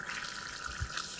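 Hot stock from cooked drumsticks being poured into a frying masala for a drumstick curry, a steady watery pour with a hissing wash throughout and a brief low splash near the end.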